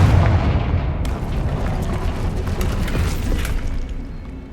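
In the Hogwarts Legacy video game, the Confringo blasting spell explodes against a barrier, a loud booming blast with heavy low rumble and crackling debris that slowly decays over several seconds.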